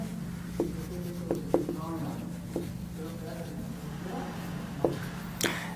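Marker or chalk strokes on a classroom board during a chemistry lesson on nucleic acids, a handful of short scratchy taps scattered over a steady low hum, moderately close and without speech.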